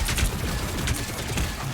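Rapid gunfire from a Marvel Rivals match, a steady dense stream of overlapping shots and impacts over noisy low rumble, with no voices.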